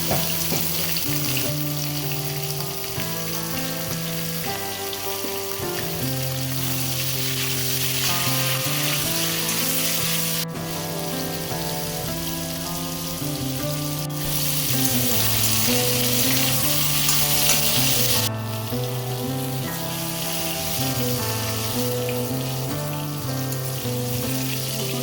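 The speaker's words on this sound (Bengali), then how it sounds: "এবার আমি পটলগুলোতে দিয়ে ভেজে নেব" Pieces of pointed gourd (potol) fry in hot oil with a steady, dense sizzle that holds close and loud for the whole stretch, broken only by brief shifts as pieces are moved; no one speaks.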